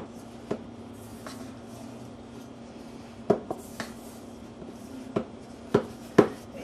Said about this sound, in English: And stir that all together.